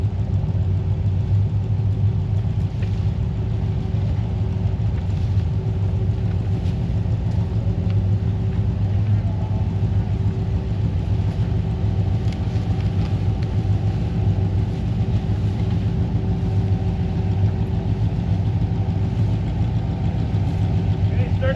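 Off-road vehicle engine idling as it creeps forward along a trail, a steady low rumble holding even and close throughout, with faint voices now and then in the background.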